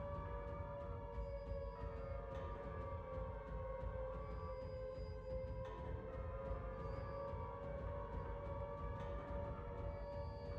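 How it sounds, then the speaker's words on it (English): The Silent Hill 2 siren wails continuously at low level, a sustained droning tone with a wavering pitch, unbroken and alone for the whole stretch. "There's the siren."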